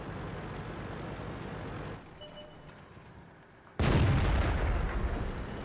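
A World of Tanks tank gun fires once, a sudden loud boom that cuts through the quieter engine rumble and then rolls off into a lingering roar.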